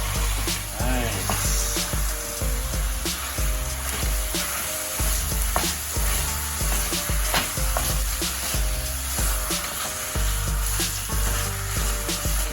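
Ground beef sizzles and fries with onions and garlic in a pan for lasagna Bolognese, a steady loud crackling hiss with occasional stirring scrapes and knocks, no talk over it.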